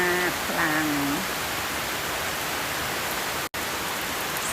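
Steady rain falls in an outdoor hillside garden with banana flowers, a dense even hiss filling the whole stretch, with a faint brief tonal sound near the start.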